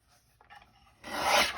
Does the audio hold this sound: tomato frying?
no